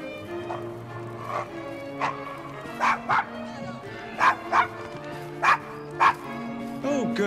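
A dog barks in a steady series of sharp, nearby woofs and yips in the Victorian London streets of Assassin's Creed Syndicate, layered over background music and ambient street noise.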